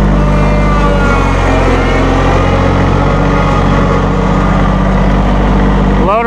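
Massey Ferguson 1825E hydrostatic compact tractor with a 24 hp engine, its diesel running loud and close in a steady drone that holds its pitch before a brief drop at the very end.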